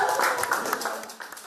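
Applause at a press conference where a Russian journalist reported murdered appears alive, a brief burst of many hands clapping at close range that fades slightly toward the end.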